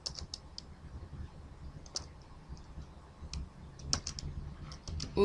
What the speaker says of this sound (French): ça c'est juste pour tester si votre clavier est bon